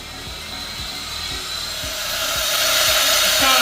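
A grinder works metal in a blacksmithing class, its motor running at about 90 and cutting into an edge to shape rounds, a steady loud whine that grows slightly louder, with rhythmic low knocks underneath and no talk.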